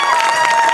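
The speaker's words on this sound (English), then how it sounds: "Give them a nice hand of applause." An event crowd applauds a young professional cycling team at a Tour of California team introduction, a short burst of dense clapping with some cheering mixed in.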